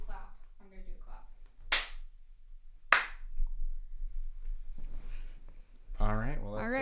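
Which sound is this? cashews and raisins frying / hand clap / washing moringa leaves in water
hand clap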